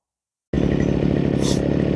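A Makita petrol brush cutter engine kicks in abruptly after a moment of silence and runs steadily, a loud, close, buzzing two-stroke drone with a quick rise in pitch partway through.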